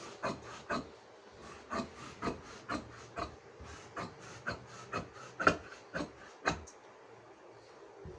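Fabric pocket pieces for a Qatari thobe being cut, giving a steady series of close, soft rasping snips at an even rhythm, about a dozen strokes with no talking.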